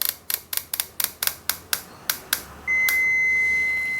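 Multimeter continuity beep while probing a Full HD TV panel PCB: a run of about a dozen sharp probe clicks, then a steady, loud electronic tone that holds to the end.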